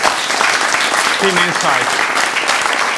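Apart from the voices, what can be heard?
audience applause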